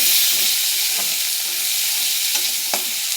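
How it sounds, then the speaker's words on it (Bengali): Chopped onion and green chilli fry in very hot oil with a loud, steady, close sizzle and occasional stirring clinks, with no voices. "তেলটা খুব গরম হয়ে গেছে, ভালো করে লাল করে নিচ্ছি।"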